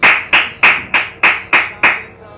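Seven sharp hand claps land in a steady, even rhythm, close and loud, with nothing else under them before they stop.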